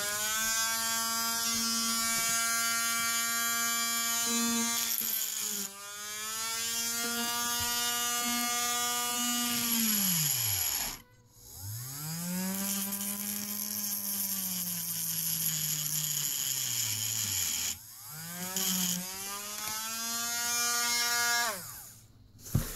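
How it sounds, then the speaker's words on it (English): A battery Dremel rotary tool converted to run on corded wall power whines steadily up close, its pitch sagging and recovering under load, with brief cut-outs near the middle and later on. "So this is the Dremel plugged into the wall."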